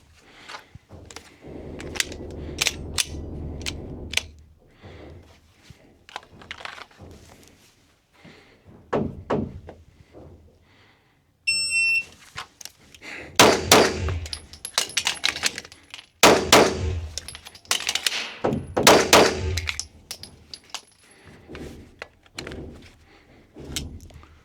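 Six shots from a Glock pistol fired at a USPSA competition target in quick succession, sharp loud reports with echoing tails, preceded by quieter handling and movement sounds.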